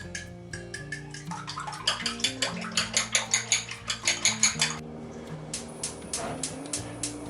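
Egg batter seasoned with Korean sea salt and black pepper is mixed in a bowl for meat jun, with a quick run of rhythmic clinking whisk strokes that builds, then trails off into a few scattered taps.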